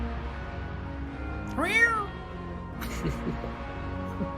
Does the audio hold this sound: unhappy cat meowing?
yes